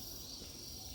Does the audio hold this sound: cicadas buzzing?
yes